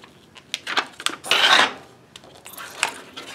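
Mylar film crackles and rustles as the bottom edge of a book cover is folded by hand, a series of short crinkles building to one louder, longer crinkle mid-way, then lighter handling sounds, close up.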